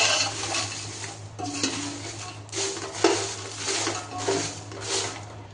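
Kashmiri chillies dry-roasting over high gas in a pan with a little oil, giving steady scraping and stirring with light metal clinks of utensil on pan, a faint background hum running beneath throughout.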